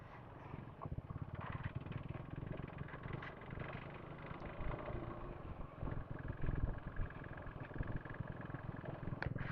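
A motorcycle sets off on a highway ride from Anantapur toward Hampi, its engine a steady close rumble blended with wind noise, with no talk over it.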